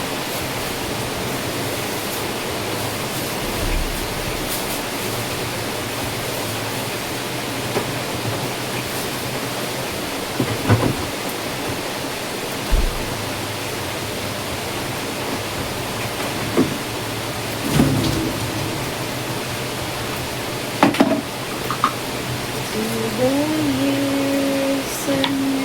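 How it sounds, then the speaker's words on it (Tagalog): Heavy rain falls during a storm, a dense, continuous hiss that stays steady and loud throughout, with a few faint knocks and a brief tonal sound near the end. "Parang may ulan."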